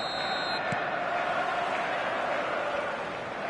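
A stadium crowd roars in a football video game on PS4, a loud, continuous wash of crowd noise at a showcase night game.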